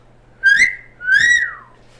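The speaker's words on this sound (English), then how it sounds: "I'm gonna whistle." A person whistles two clear, rising-and-falling notes alone, each lasting about half a second, loud and close with a faint low hum beneath.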